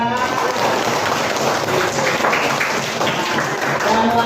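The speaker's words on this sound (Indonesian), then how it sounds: "Tepuk tangan." A classroom of students applauds during an Indonesian teaching practice lesson, a dense steady patter of clapping mixed with voices throughout.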